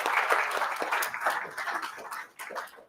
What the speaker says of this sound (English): Another round of applause, please, for our incredibly energetic panel